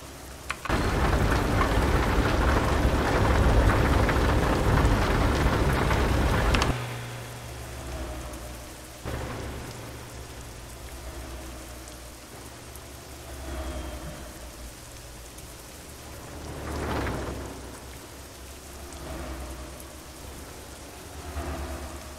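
Heavy rain pours in a thunderstorm in the truck-driving game Euro Truck Simulator 2, a dense loud hiss that eases after several seconds into steadier rainfall broken by low rolling thunder.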